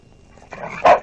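Dogs give a couple of sharp, loud barks close by, following a quiet lead-in, with no talking over them.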